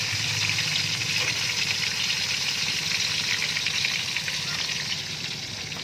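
Danggit dried fish fries in a pan with a loud, steady hiss of hot oil that holds unbroken throughout, close by with no talk.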